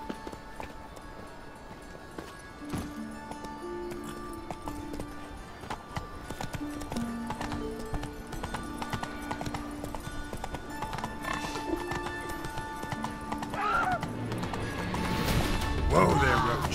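Horse hooves clip-clop steadily through a video-game scene from The Witcher 3, with an occasional whinny and some clattering knocks, set under continuous game music and spoken dialogue.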